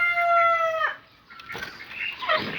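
Chickens in a farmyard where ducks are also kept: a clear, loud harmonic crow-like call opens, then after a short pause come scratchy clucks and squawks, close to the listener, with no talking.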